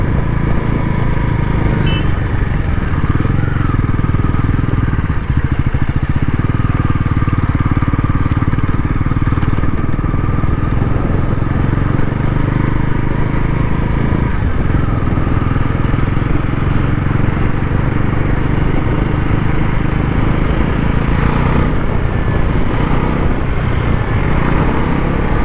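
Bajaj Pulsar NS 400 motorcycle engine during a ride, a loud steady drone with wind rush throughout, no breaks, close to the rider.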